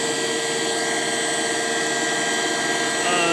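A high-amp alternator with an external rectifier on a test rig, idling at low RPM, gives off a loud, steady mechanical whine and hum that holds constant throughout.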